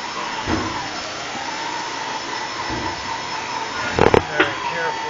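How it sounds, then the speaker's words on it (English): A mini centrifuge spins a wet braided rug with a steady, loud whirring drone like a vacuum motor, a continuous high hum broken by a few clunks and knocks near the end. "this is a braided rug that we are going to put in our mini centrifuge"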